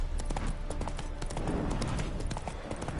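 Roach, Geralt's horse in the Witcher 3 video game, moving with a dense, continuous patter of hoof clip-clops close by over a steady ambient bed, with no pauses.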